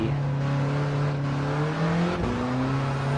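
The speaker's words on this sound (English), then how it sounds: "There's so much wheel spin on the front wheels, it's crazy." A race car engine in Gran Turismo 7 holds a steady high drone with the front wheels spinning, then the pitch briefly dips as it shifts before climbing again; close and continuous, with no voices.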